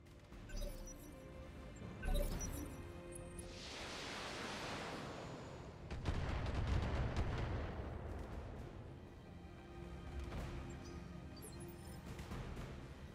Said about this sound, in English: Something is still firing at me, and I don't know where they are